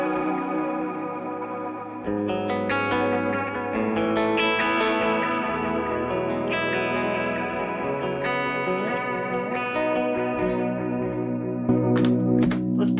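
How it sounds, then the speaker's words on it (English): An electric guitar played through amp captures with delay and reverb effects rings out in layered sustained chords and notes that trail off in echoing repeats, loud and close, with a few sharp pick clicks at the end. "Delay and reverb."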